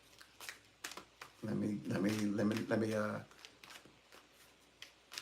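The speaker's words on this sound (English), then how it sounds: "I better shuffle these up really nice." Cards are shuffled during a psychic reading, with soft riffling clicks before and after a brief stretch of speech.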